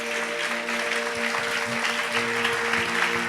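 A church congregation claps steadily and continuously during a worship service, with a sustained musical drone held underneath the applause.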